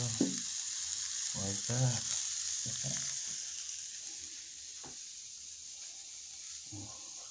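Chicken fries in oil on a makeshift stove on top of a prison locker, a steady quiet sizzle running throughout beneath a few brief spoken words.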